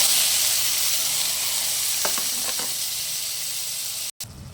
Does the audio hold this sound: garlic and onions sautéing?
yes